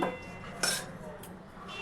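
Fried potatoes being lifted out of a wok with a metal utensil while making sarshe mutton, giving a few faint, close clinks and scrapes against the pan.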